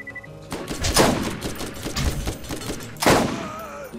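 Gunfire in the video game Borderlands, bursts of loud shots and heavy impacts in a busy firefight, with a second big blast near the end.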